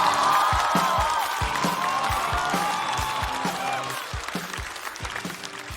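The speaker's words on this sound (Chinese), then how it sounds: "掌声有请来自过载喜剧的王凯峰" A stand-up comedy show audience claps and cheers steadily as a comedian is called to the stage, a dense, sustained wash of applause with music playing beneath it that eases slightly toward the end.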